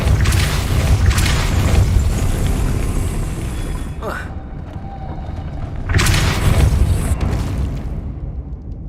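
Spell-casting effects from the Hogwarts Legacy video game, including the Depulso spell: sustained loud rumbling blasts with a sudden cutoff, a brief sweeping whoosh, then another booming surge, dense and close throughout.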